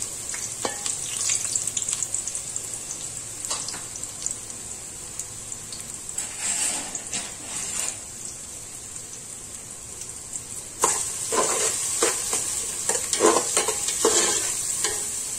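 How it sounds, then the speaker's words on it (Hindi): Finely chopped onion fries in two tablespoons of hot oil, a continuous bright sizzle with intermittent stirring scrapes and bursts of crackle, close and steady with no talking. "इसके अंदर मैं 1 बड़ी प्याज डाल रही हूँ, बारीक कटी हुई"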